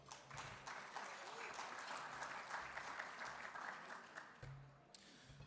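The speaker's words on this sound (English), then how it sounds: "please give the Taglian a round of applause" Guests at an annual awards gala dinner break into a full round of applause that holds steady for several seconds, with scattered voices murmuring beneath the clapping.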